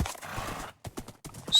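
Hooves clip-clop in short, irregular steps from a horse in the video game Minecraft, a few quick thuds with brief gaps, fairly faint and with no talking.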